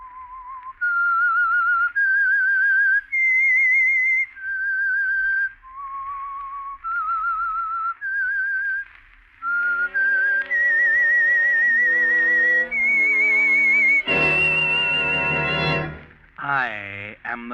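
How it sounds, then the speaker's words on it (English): A lone melodic whistle plays the eerie theme of The Whistler radio drama, clear sustained notes rising and falling in phrases, then a brighter orchestral swell joins near the end; no talking. "That whistle is your signal for the Signal Oil Program"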